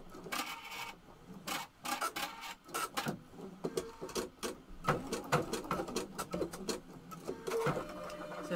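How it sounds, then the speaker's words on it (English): An embroidery sewing machine stitching out the second half of a design in a hoop, a quiet, fast, uneven clatter of needle strokes running throughout. "So now we're ready to sew the second half."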